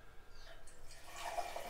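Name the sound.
pouring homebrew beer from a cask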